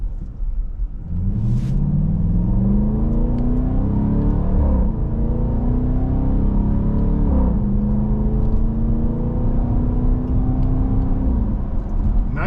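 A 2025 Dodge Durango R/T 20th Anniversary Plus in manual mode, accelerating through several paddle upshifts: a steady engine drone rises in pitch, drops at each shift near five and eight seconds, then climbs again, loud and continuous with no talking.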